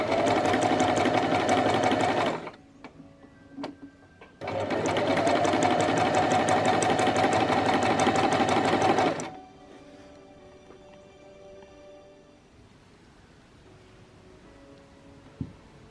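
A sewing machine stitches in two loud, steady bursts, each a few seconds long, with a short pause between them and a quiet room afterward.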